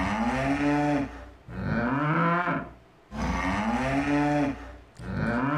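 A berrante, the traditional cattle horn, is blown in long, loud, reedy blasts that imitate cattle lowing, with three sustained calls separated by short pauses and no voices.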